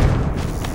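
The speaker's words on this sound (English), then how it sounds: "Grenade out!" A grenade blast in the first-person shooter Ballistic Overkill, a loud, sustained low boom rolling across the whole moment with no voices over it.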